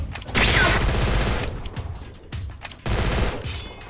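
Enemy gunfire in the shooting game Free Fire comes as loud rapid automatic bursts, one long burst followed by a pause and then another, with brief sharper shots between.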